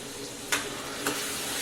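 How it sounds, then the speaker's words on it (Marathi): Whole rice grains sautéing in hot oil with asafoetida and turmeric, a dense bright hiss of frying broken by two quick spoon scrapes, close and fairly loud, no voices. "आता हे तांदूळ टाकून तेलात आपण छान परतून घेऊया"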